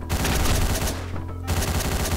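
Rapid bursts of gunfire from the top-down action game Hotline Miami, loud and continuous over a driving electronic soundtrack, with a brief drop around the middle before shots resume.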